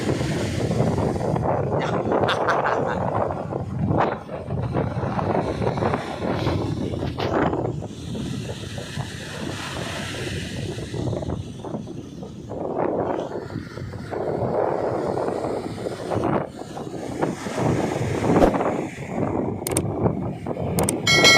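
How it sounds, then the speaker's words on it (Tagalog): Wind buffets the microphone while waves slap and surge against a boat, a loud, continuous rushing with irregular splashes throughout. "Lakas ang alon guys,"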